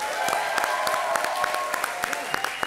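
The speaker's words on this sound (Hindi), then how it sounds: "एक बार जोरदार तालियां।" A comedy show studio audience applauds steadily with scattered sharp claps throughout, moderately loud and continuous.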